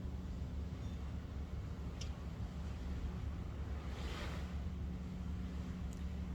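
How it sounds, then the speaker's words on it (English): Ocean waves washing in a steady, broad hiss with a low rumbling undertone, one swell rising briefly louder midway, heard outdoors with wind buffeting the microphone and a boat having just passed. "I also hear the waves."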